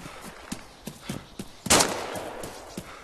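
A rapid series of sharp video game gunshots in DayZ cracks out in a quick rhythm, punctuated by one louder, longer blast midway, with no talking.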